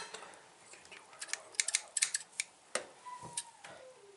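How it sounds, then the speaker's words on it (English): Scissors snip the split ends of natural hair close up, a quick series of sharp, crisp clicks clustered in the middle with quiet pauses around them. "I just trim those little ends off that don't have a home."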